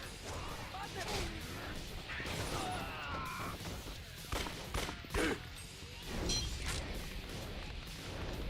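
Shotgun fire and crashing combat in the video game Yakuza Dead Souls: several heavy bursts and impacts over a dense, noisy game soundtrack, with occasional faint talk in the mix.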